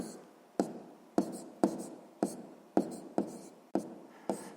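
A pen writes math on paper up close in a steady series of quick strokes, each opening with a crisp tap and trailing into a scratchy fade, with no voice over it.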